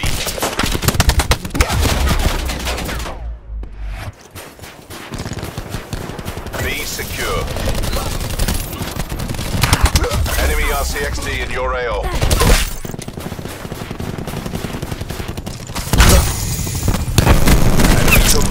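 Rapid submachine gun bursts from a Spitfire in Call of Duty Black Ops 4 on the Nuketown map, loud and repeated across the whole stretch, mixed with explosions, shattering glass and game announcer voices.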